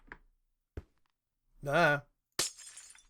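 A glass block shatters in a video game, one sharp, bright crash with a short, tinkling decay near the end, after a voice speaks briefly and a couple of soft clicks.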